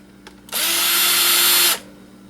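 An electric screwdriver drives out screws inside an old laptop, whirring steadily and loudly for about a second after a faint click, up close with no talking.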